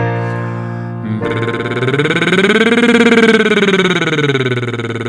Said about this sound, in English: so you just lift your cheeks gently and you get fluttering horse lips